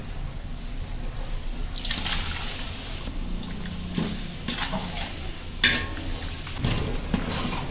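A large batch of tomatoes sautés in a big pot for kuska meant for seventy people, sizzling steadily and close, with repeated scraping stirs and clattering ladle strokes on the metal, without talk.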